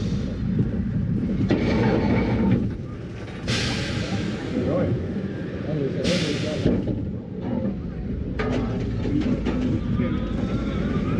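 Revolution, a looping roller coaster at Blackpool Pleasure Beach, roars along its track with a continuous loud rumble and rattle, punctuated by bursts of wind and screams, heard from on board.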